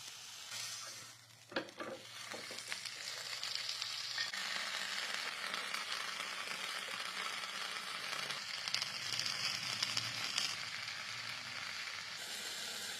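Tandoori chicken roasts in an oiled pan with a steady, dense sizzle and frying hiss that runs through the whole stretch, with a few brief clatters near the start and no voices.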